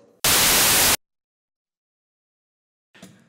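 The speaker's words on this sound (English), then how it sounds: "Our source is white noise." A Eurorack modular synthesizer's white noise source bursts in loud and steady for under a second, a flat full-range hiss that cuts off abruptly to silence, followed by a faint fragment of another sound at the end.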